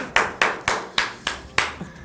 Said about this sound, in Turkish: Arkadaşlar bence bir Erdal'ı alkışlayın.